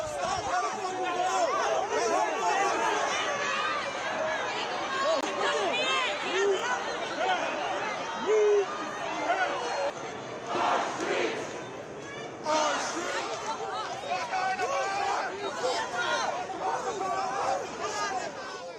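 Protesters crowd together in downtown Los Angeles in defiance of a curfew, producing a steady, dense babble of many voices with shouts rising now and then throughout.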